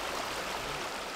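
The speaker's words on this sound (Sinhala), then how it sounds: "දැන් ඉතින් වතුර පාර අඩුයිනේ" A low-flowing stream of water running over rocks produces a steady, even rushing wash that is faint and continuous, with no voices.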